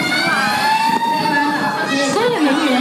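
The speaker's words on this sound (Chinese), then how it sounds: "直到警报声再次响起。" A fire alarm siren wails loud and close during a kindergarten disaster drill in Hualien, its pitch rising and falling in a continuous tone.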